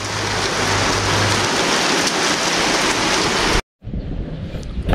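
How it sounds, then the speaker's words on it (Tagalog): Heavy, steady rain pours down loudly, a constant hiss of drops on surfaces, briefly cutting out before resuming slightly softer. "Kaya lang umuulan na."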